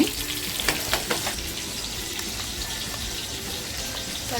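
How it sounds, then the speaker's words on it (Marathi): A small piece of barfish fries in oil in a pan, a loud, close, continuous crackling sizzle, with a few utensil taps and scrapes in the first second or so, and no one speaking. "चटणीला ना छोटीशी दाबोळी होती ती सुद्धा फ्राय करायला टाकली आहे"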